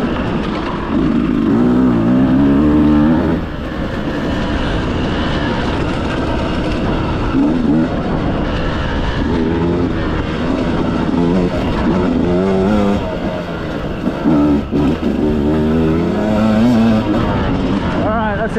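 A dirt bike engine roars loud and continuous while riding a trail at Gheerulla, close up and steady with slight shifts in pitch and no clear pauses.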